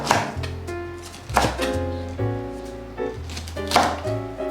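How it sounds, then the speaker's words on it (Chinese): A knife chops cabbage leaves into squares on a board with sharp, evenly spaced strikes, close and clear over soft background music. "换一个方向，切成4方形"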